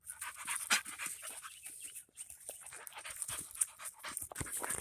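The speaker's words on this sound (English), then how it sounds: "Hey dog. I don't know whose dog this is." Close, quick rhythmic panting from a stray dog outdoors, with short breathy bursts and brief pauses and some jingling and shuffling, with no talking over it.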